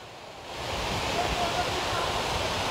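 Tanda waterfall near Mirzapur, which pours down a cut through a rocky hill, gives a continuous broad rushing roar that grows louder and then holds steady, with no talk over it.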